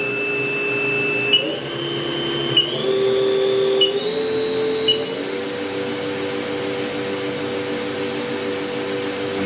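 Haas TM-1P CNC toolroom vertical mill spindle spinning at a steady 3,000 RPM, a continuous high-pitched whine with several layered tones that step upward in pitch a few times, with small clicks at each step and no talk.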